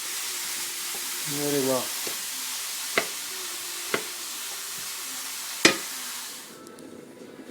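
Aubergines cooking in a frying pan give a steady, close sizzle throughout, broken by a few sharp utensil clicks and taps, with a short spoken phrase over the frying near the start.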